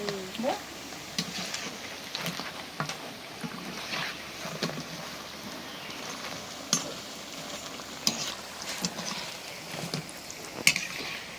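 Battered eggplant fritters (beguni) deep-frying in hot oil at a home iftar, a faint continuous bubbling sizzle with occasional clinks and scrapes of a utensil, fairly quiet with muffled voices in the background.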